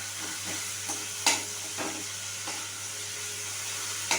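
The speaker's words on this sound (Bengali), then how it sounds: "টমেটোটা খুব ভালো করে মশলার সাথে একটু কষিয়ে নিতে হবে" Half-boiled tomato frying with spices in a pan for a rohu and spinach dish, a quiet steady sizzle with a few scattered scrapes of stirring and a low hum underneath, close and without talk.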